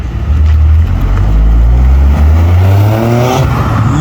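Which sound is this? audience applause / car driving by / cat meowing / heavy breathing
car driving by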